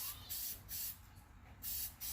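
K&N air filter oil sprayed onto a filter in short repeated bursts, each a sharp aerosol hiss followed by a brief pause, close and steady with no talking.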